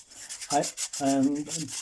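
Two short rasping strokes of sandpaper rubbing over primer on a 3D-printed model, close by, separated by a brief pause.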